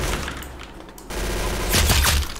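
Rapid gunfire bursts from a first-person shooter video game, loud and dense, with heavier, louder shots clustering toward the end.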